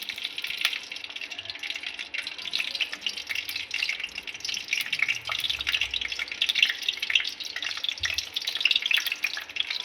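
Green chillies frying in mustard oil in a home kitchen pan, a continuous bright crackling sizzle with small pops and spits throughout, steady and close, with no talk.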